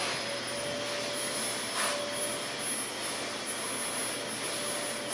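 A Dyson DC25 upright vacuum cleaner runs steadily with a loud, even whoosh and high motor whine, no pauses, while cleaning fabric in a house.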